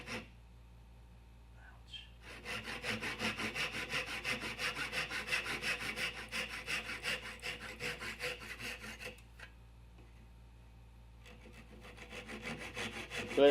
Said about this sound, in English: and then I just hand saw it out